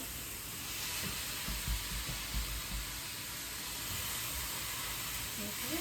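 A steady, soft hiss of eggplant frying in a pan runs throughout, faint and even, with a low voice murmuring underneath at times.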